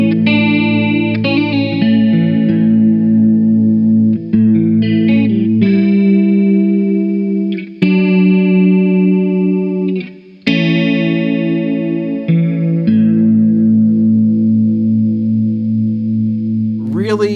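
Electric guitar played through a Boss CE-3 chorus pedal in sparkle blue, a stereo refresh of the CE-2, ringing out sustained chords and picked notes with a shimmering, warbling chorus, loud and continuous with no talking.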